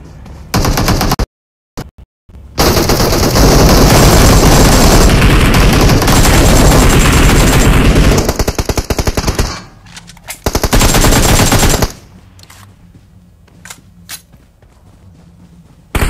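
Loud, sustained automatic gunfire in an online shooter video game, dense rapid bursts filling most of the stretch with a couple of abrupt gaps, then dropping to quieter game ambience near the end.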